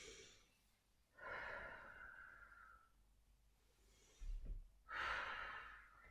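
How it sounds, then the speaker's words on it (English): Slow, soft breaths during a children's yoga rest on the back, with a few long airy inhales and exhales separated by quiet pauses, faint and close. "Don't forget to breathe."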